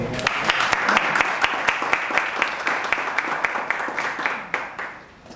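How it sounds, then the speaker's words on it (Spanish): A crowd applauds steadily, many hands clapping in a dense, lively burst that fades out toward the end. "Un aplauso, por favor."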